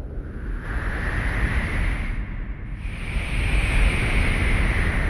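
Ocean surf rolls in continuously, a broad roar of breaking waves and surging water mixed with wind rumble on the microphone, loud and steady with no voices.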